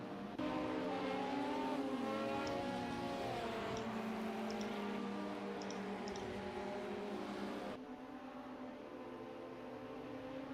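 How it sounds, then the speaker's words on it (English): Steady droning of LMP1 race car engines in a racing video game at Spa, high revs, continuous and fairly loud, with engine pitch shifting and a change in tone near the end. "But I'm glad to see some car noise at least."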